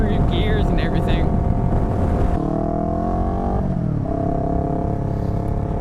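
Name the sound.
2015 Yamaha R3 motorcycle engine and exhaust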